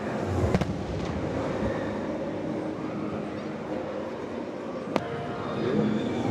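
Fireworks burst over Magic Kingdom near the TRON Lightcycle Run ride, with a few sharp cracks and pops over a steady crowd rumble, mostly distant and moderate in volume.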